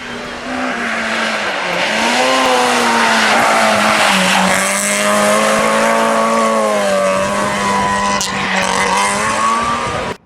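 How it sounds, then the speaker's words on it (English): A race car's engine drones steadily with tires squealing and skidding, a brief sharp impact-like burst near the end as the car spins out. "Oh, it's a big crash there in the first corner."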